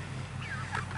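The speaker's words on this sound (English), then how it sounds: "The chickens are getting so big." Young chickens, about three months old, cluck in a chicken tractor on a garden homestead. A couple of faint, brief clucks sit over a steady low hum.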